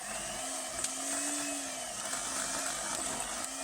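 Steady electric mixer whirring through cupcake batter, a continuous mid-volume motor hum with a faint rising tone, no voices.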